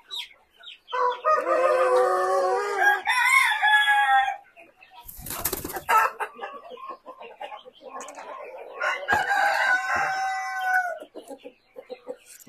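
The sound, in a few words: speckled rooster crowing and chickens clucking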